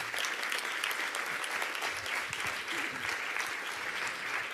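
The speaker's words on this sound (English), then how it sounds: "Big round of applause for Dan." A worship-night audience applauds loudly and continuously, sustained clapping mixed with a few cheers filling the room for several seconds.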